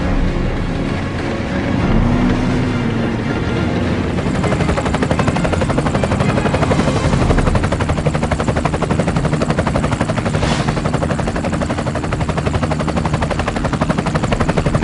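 A helicopter flies through a combat video game against tanks, its steady rotor drone filling the whole stretch at close range. Faint game effects rise and fall underneath, with no voices heard.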